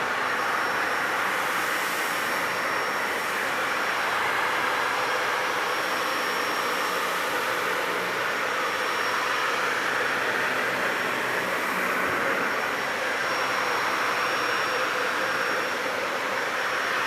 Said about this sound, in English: So let's just vacuum.